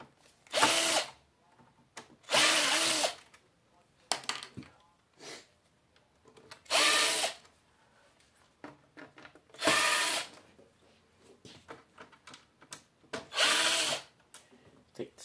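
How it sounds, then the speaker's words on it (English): A power drill backs screws out of an RCA TV being scrapped, whirring in five or six loud bursts of about a second each, separated by quieter clicks and handling noises. "I'm gonna take these screws out for this."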